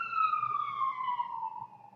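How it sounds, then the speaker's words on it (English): Emergency vehicle siren wailing outdoors, a steady descending tone with clear harmonics, moderately loud and fairly close, holding for about two seconds with no talk over it. "Hey, sirens."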